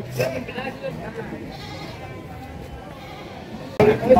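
Goats bleat amid the busy din of a livestock market in Wlingi, Blitar, East Java, where Boer goats are sold; the calls are mixed into steady crowd noise and people talking nearby.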